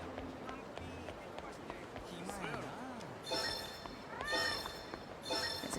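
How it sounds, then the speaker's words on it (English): A cat meows a few times in the Yakuza 0 video game, rising and falling calls heard moderately loud amid game ambience and someone talking. "There's a cat."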